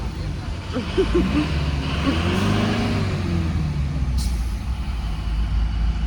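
Trucks and buses crawling in a traffic jam on a road: low engine rumble, a hiss of air brakes, and people talking over the idling vehicles.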